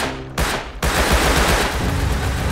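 Gunfire in the survival game Rust bursts out loud and close, a dense rattle of rapid shots that fills the whole moment with barely a pause.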